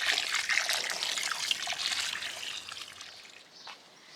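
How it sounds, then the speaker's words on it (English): Water trickles and pours onto the soil of a small potted pear tree in an allotment garden, a steady close splashing stream that gradually thins and quiets toward the end. "I'm just going to give it a really quick water just in case there's any air gaps in there around the roots."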